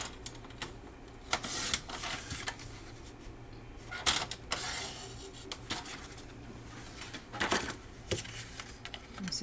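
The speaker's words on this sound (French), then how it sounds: "Alors, je vais couper ça." Paper being cut for a beginner's two-section scrapbook folio, with close, crisp snipping and clicking in irregular bursts, some sharper strokes standing out over a quiet background.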